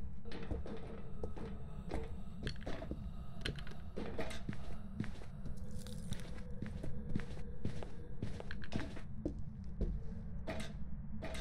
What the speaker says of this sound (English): I was able to hear its footsteps